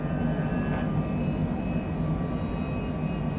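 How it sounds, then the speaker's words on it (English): A steady roar of an airplane climbing out on a noise abatement takeoff from John Wayne Airport in Orange County, California, a dense continuous engine rumble with a faint whine, no talking. "Do that noise abatement takeoff that we do here."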